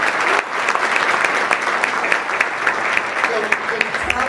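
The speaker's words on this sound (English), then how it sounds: "Let's give him a round of applause." Sustained applause from a luncheon audience at a trade convention, steady dense clapping throughout, loud and close.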